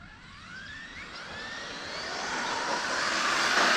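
An RC car driven at full throttle on Turnigy 3S batteries, its electric motor rising into a loud, steady whine that climbs in pitch and volume over a few seconds, with no voices.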